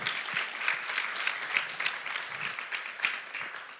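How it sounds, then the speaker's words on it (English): An audience at a guide dog school graduation applauds the CWTTs, a steady, fairly soft patter of many hands clapping at a distance for a few seconds. "So can we give a big round of applause for the CWTTs?"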